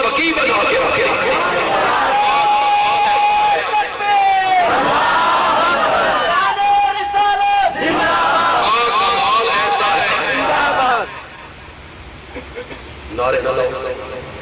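A large crowd at a religious gathering in Lalian chants slogans in loud, rhythmic unison, with rising and falling calls over several bursts, then fades to quieter murmuring and voices near the end.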